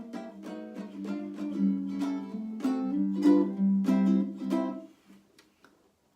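Intro for a jazz jam, played as a lively melodic phrase of plucked or struck notes in a bouncy rhythm, close and clear, trailing off into quiet near the end.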